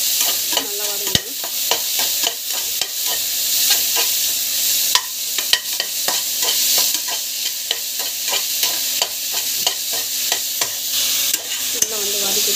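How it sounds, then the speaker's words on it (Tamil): Sliced onions sautéing in a hot pan as home cooking, with continuous sizzling and repeated scraping stirs of a spatula, close and steady. "ஆனியன் ஸோ நல்லா வந்து வதக்கிடுவோங்க."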